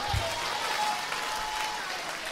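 A church congregation claps steadily in a dense, continuous wash of applause, filling the room evenly, with faint voices mixed underneath.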